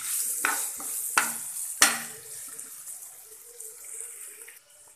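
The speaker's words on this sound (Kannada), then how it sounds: "ಈಗ ಹೆಚ್ಚಿಟ್ಕೊಂಡಿರೋ ಆನಿಯನ್ ಸ್ವಲ್ಪ ಕೆಂಪಗಾಗೋಷ್ಟು ಹುರ್ಕೋಬೇಕು" Chopped onions with cumin seeds sizzle in a hot pan while a spoon stirs, with a few sharp scraping strokes early on and a steady, moderate frying hiss throughout.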